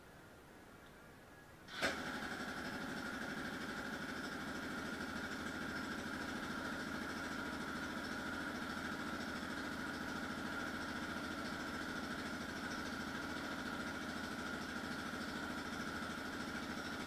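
A 2004 Yamaha Raptor 660R ATV, freshly fitted with a new carb and jet kit, fires up from cold after a quiet moment and then settles into a steady, loud, buzzing idle held close by for the rest of the time.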